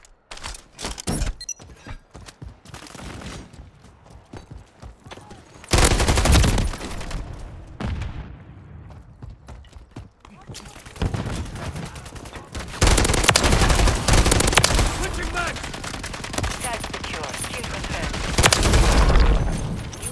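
Gunfire from the Modern Warfare 3 game: dense bursts of shots and loud volleys come in waves, with quieter stretches between them and sharp booming impacts near the end, mixed with in-game battle noise.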